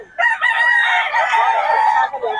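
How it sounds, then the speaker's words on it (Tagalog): Rooster crowing loudly and close at a Bocaue cockfighting-bird market, one long sustained crow with a brief lead-in cluck, filling the moment alone. "puro solid ang mga manok ni Boss Albert"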